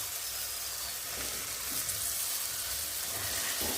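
A fried fish head goes into a pan of hot masala for muri ghonto, producing a loud, continuous close-up sizzle and bubbling hiss with no talking.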